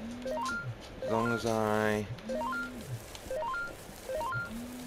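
A phone rings in the arcade-management game Arcade Paradise, its repeating electronic ring sounding in short bursts that climb in pitch and return several times, under steady talk from a nearby voice.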